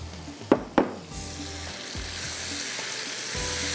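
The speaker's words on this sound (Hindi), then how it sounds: "अब ये जो लौकी को फ्राई किया है, ये थोड़ी सी मैं इसके साथ भून लूँगी," Bottle gourd frying in a pan, a steady close sizzle with two sharp clatters near the start and a faint continuous hiss throughout.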